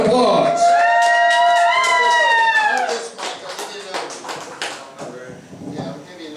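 A club crowd cheers and claps loudly as the performer Tapeworm is welcomed to the stage, with a voice ringing out over the noise at first and the applause then thinning into scattered claps and shouts.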